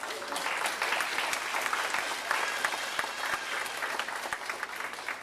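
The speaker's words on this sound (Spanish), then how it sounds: "dale un aplauso al Señor" A church congregation applauds for the Lord with steady, dense clapping heard from a moderate distance, continuous and even throughout with a faint crowd murmur underneath.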